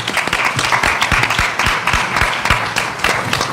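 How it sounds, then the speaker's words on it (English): Dense, steady applause from a seated conference audience for a panel, many hands clapping at once in a loud, continuous wash with no pauses for the full stretch. "Can we please give our panelists and Michelle Miller a big round of applause?"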